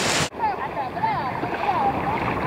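A small boat jumps over sea waves on a family trip, with a loud buffeting rush of wind and water, an abrupt thump near the start, then a steady engine whine running beneath the churning spray.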